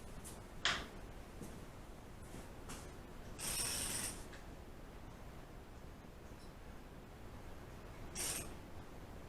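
On a 2000 VW GTI, a ratchet turns the engine over by hand. Faint, brief ratcheting bursts stand out against a quiet, hissy background, with a sharp tick near the start.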